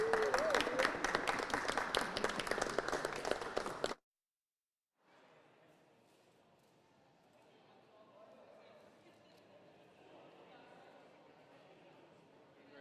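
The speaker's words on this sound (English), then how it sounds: "Huge cheer for Mary and her campaign." A crowd at a general election count centre cheers and claps loudly for a candidate's campaign for about four seconds. The noise breaks off abruptly and gives way to a quieter murmuring room.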